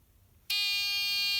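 A Snap Circuits SC-750 buzzer switches on abruptly partway through and holds a loud, steady, shrill electronic tone until the end, after near silence.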